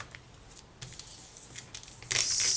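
Crinkly plastic rustling, soft and intermittent at first, then a louder continuous crackle of the bag being smoothed near the end.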